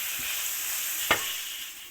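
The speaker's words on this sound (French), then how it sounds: "pour le moment, on caramélise un petit peu les oignons. D'accord. Donc n'hésitez pas à remuer." Onions caramelizing in an induction tajine give a soft continuous sizzle, broken by one brief scrape of stirring partway through.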